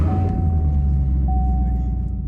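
Chevrolet Camaro SS, a 444-horsepower rear-wheel-drive muscle car, with its engine producing a deep, steady low rumble heard close up and alone, with a faint thin whine over it.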